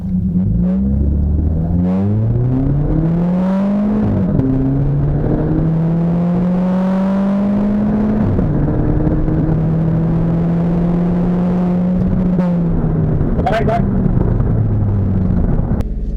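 Two cars drag racing, a Ford Mustang against a Hyundai Veloster, their engines revving and climbing through gears in repeated rising sweeps, loud and close throughout with steady roaring drone.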